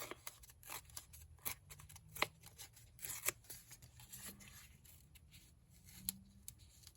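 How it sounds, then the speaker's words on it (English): Paper torn by hand into strips for a collage-style piece, a series of short crisp rips and rustles, close and fairly quiet, with no talking. "tear them down this way and then tear them down this way as well"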